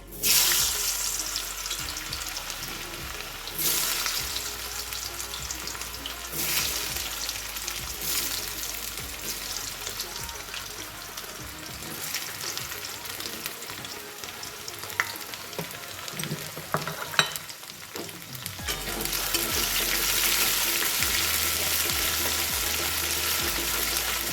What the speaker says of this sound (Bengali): এইবারে আমি এর মধ্যে ছোট ছোট যে আলুগুলো কেটেছিলাম সেইগুলো সব ভেজে নেব